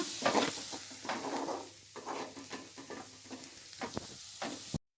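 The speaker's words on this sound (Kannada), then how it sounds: "ಸ್ವಲ್ಪ ಹಸಿ ವಾಸನೆ ಹೋಗೋ ತನಕ ಫ್ರೈ ಮಾಡೋಣ." Garlic and green chilies fry in oil for a mixed greens palya, a quiet nearby sizzle broken by intermittent stirring scrapes, ending abruptly in silence.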